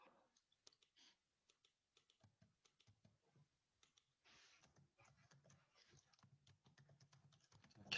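Keyboard keys tapped while writing Java code for a try-catch block, quiet scattered clicks at first, then a denser run of typing toward the end, close and soft with no talk.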